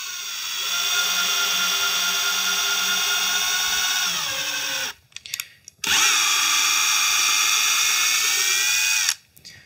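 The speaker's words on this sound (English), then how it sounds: "Running this tap through here without having this rip off." A thread tap driven through plastic by a power drill gives a loud, close, high whine that holds steady for several seconds, stops briefly, then runs again before cutting off.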